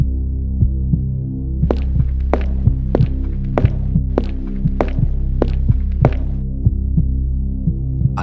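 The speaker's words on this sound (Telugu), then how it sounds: "అతని గుండె శబ్దం మాత్రమే వినిపిస్తోంది" Heartbeat sound effect in a horror story: a slow, steady double thump repeating about every second and a half over a low droning hum, close and prominent, with no talk.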